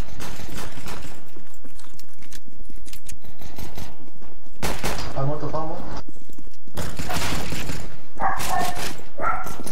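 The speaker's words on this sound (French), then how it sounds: "Le chien sur la vidéo, ça va pas trop." A dog barks in several loud, close bursts, mixed with louder talk and game noise from a Counter-Strike: Global Offensive match.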